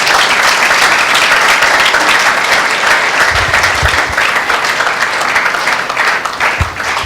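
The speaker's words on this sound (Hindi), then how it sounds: "क्या ऐसे परमेश्वर के लिए हम जोरदार ताली दें?" Loud, sustained applause from a large crowd, dense and steady throughout with a few low thumps, no talking over it.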